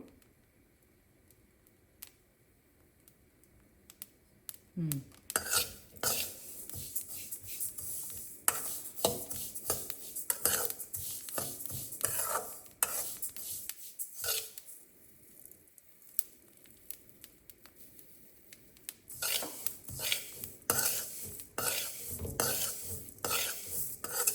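Black sesame seeds roast on medium flame in a pan, giving dense, continuous crackling pops mixed with scraping stirring strokes. The sound starts quietly and grows busy and close, with no voices.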